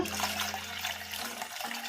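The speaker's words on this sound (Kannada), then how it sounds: "ಇದಕ್ಕೆ ಒಂದು ಚೊಂಬಷ್ಟು ನೀರು ಹಾಕೋಣ" A jugful of water pours and splashes steadily for a couple of seconds into a spinach buttermilk curry mixture, a continuous watery rush with a low hum underneath.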